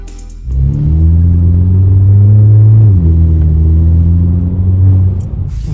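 Audi A5 2.0 with an adjustable exhaust valve and the resonator removed, its engine revving up loudly in a deep rumbling swell, easing slightly and holding again before dropping off, close and alone.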